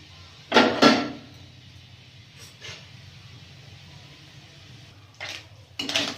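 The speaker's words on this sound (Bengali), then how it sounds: "মাংসের টুকরোটা ভেজে নেব" Pieces of meat hit a hot wok in a village kitchen while bean fried rice is cooked, giving short bursts of close hissing sizzle separated by quieter gaps.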